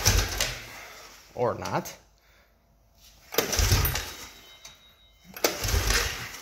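A Honda Foreman Rubicon ATV engine is cranked in three separate bursts close by, each rough and loud without catching, with a brief spoken remark between the first two.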